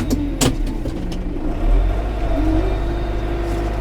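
Tractor engine runs steadily at a low, loud drone during a gear change while driving through snow, with a slight rise in revs partway and no talk.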